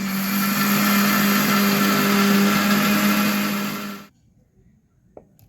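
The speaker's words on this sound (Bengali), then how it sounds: "এবার আমি মিক্সিতে আতপ চালগুলোকে বেটে নেব।" A mixer grinder whirs at full speed as it grinds raw aatap rice with a little water, a loud steady motor drone that runs for about four seconds, then cuts off, leaving near silence broken by a single small click.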